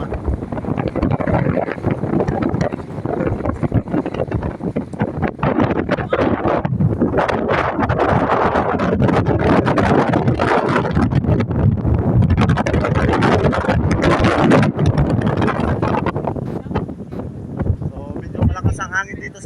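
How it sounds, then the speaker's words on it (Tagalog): Strong wind roars and buffets the microphone on a moving boat off El Nido, Palawan, loud and continuous for the whole stretch, easing slightly near the end. "Hangin dito sa 7 Commando."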